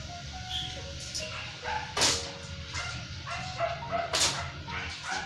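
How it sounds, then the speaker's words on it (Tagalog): A dog barks indoors, two sharp, loud barks a couple of seconds apart, with softer yips and whimpering in between over a low background murmur. "Dahil may ingay yung aso"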